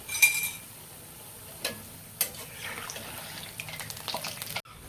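Semolina gulgule fry in hot oil with a steady low sizzle and bubbling, broken by a few sharp clatters and stirring knocks from a utensil, no voices.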